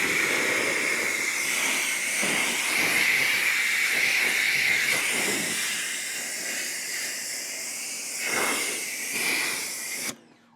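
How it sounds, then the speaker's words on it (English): A Ryobi high flow pressure washer sprays through a green nozzle, a loud steady hiss of water that swells and fades in waves before cutting off abruptly at the end. "Let's go with the green nozzle. Yeah, that's much better. Much better for rinsing."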